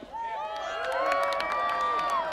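Rodeo crowd in the stands at a bull-riding event in Valemount, BC, cheering and whooping in a steady, loud swell lasting the whole stretch, with scattered shouts rising above the din.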